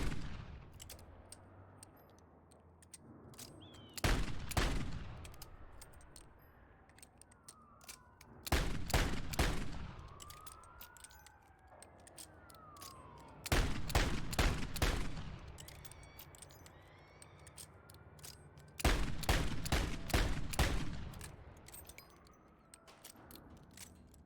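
Revolver gunfire from Modern Warfare 2 comes in four loud, clustered bursts of rapid shots spaced evenly apart, with quieter mechanical reload clicks and handling noises filling the gaps between them.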